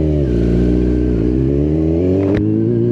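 A Kawasaki Z1000 R inline-four 1000cc motorcycle with a new exhaust idles and revs close by, its deep, even drone rising and falling in pitch before a sharp blip, loud and continuous throughout.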